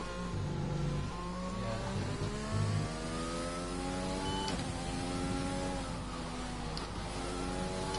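Race car in a Spanish GP sim race lapping the circuit, engine note rising and falling through repeated upshifts and downshifts, moderately loud and continuous with no voices.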